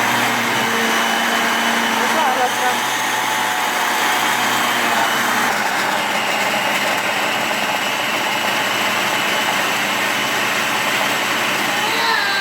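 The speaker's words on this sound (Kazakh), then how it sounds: "Ал кеттік, біз қосамыз блендерді." A kitchen blender runs continuously at high speed while whizzing a breakfast smoothie, its loud, steady motor whine and churning roar holding throughout with no pauses.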